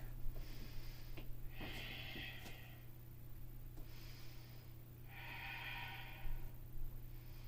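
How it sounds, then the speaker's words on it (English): Slow, deliberate breaths during a yoga balance flow, several soft hissing inhales and exhales spaced a second or two apart over a low steady hum, close and quiet. "Breathing."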